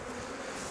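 Dense, steady buzzing of honeybees at a Flow Hive fills the brief moment, a close, constant drone with no voices.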